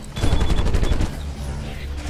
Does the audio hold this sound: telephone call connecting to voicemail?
no